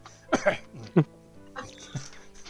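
A character in a video game gives a few short, raspy coughs, close and sharp, scattered between quiet murmuring and other brief vocal sounds.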